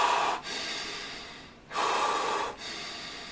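Deep, heavy breaths drawn in and pushed out during a shoulder exercise, two long broadband exhalations separated by short pauses, close and fairly loud with no talking.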